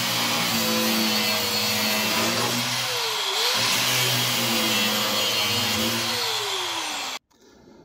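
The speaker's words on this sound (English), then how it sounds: "So I'm gonna get the grinder and try and get a lot of them out" An angle grinder cuts out rusty screws inside a vintage trailer being gutted, giving a loud, steady whine close by with small pitch dips as the load changes, then stopping abruptly near the end.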